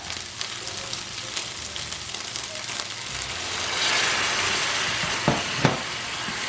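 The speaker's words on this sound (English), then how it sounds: "Stir in a ladle of stock into the rice." Risotto rice simmers in a pan on medium heat as a ladle of stock is stirred in, giving a soft steady sizzle with faint scraping and a couple of sharper clinks near the end.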